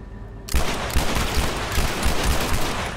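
In The Last of Us multiplayer, a burst of gunfire erupts suddenly after a quiet half-second, then continues as rapid, loud, repeated shots in an uneven fusillade lasting a couple of seconds.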